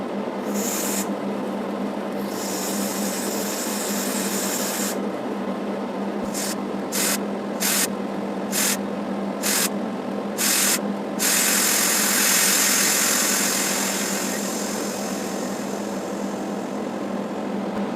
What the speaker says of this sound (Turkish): Bu sefer basıncı saptaki basınç düşürme, kapağı açma butonundan yapacağım.